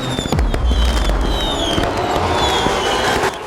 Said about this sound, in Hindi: और वो है पटाखे।